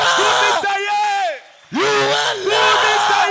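A church congregation at a Sunday praise service raises loud voiced acclamations, two long swelling shouts of praise separated by a brief hush, full and close.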